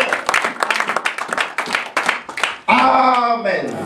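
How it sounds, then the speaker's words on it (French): Church congregation clapping and cheering in praise during a French-language sermon, a dense burst of applause for about two and a half seconds, then a loud, sustained shout or sung acclaim from the crowd. "Est-ce qu'on peut acclamer pour le Seigneur?"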